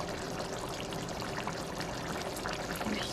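Olive oil poured into simmering tomato sauce in a pan, a continuous wet trickling and bubbling wash that stays fairly loud and even throughout.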